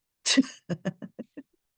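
A single sneeze bursts out close and loud, followed by a short series of quick breathy catches or small laughs trailing off into silence.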